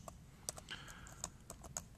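Quick keystrokes on a computer keyboard while entering an algebra problem into the Math Papa online calculator, a handful of separate sharp clicks spaced irregularly over two seconds, close and fairly quiet with no talking.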